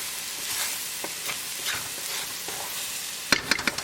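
Spices sizzling in a tadka of oil and turmeric as ground bison is readied for spaghetti, a soft steady frying hiss with occasional stirring scrapes and a burst of sharp clicks near the end. No voices.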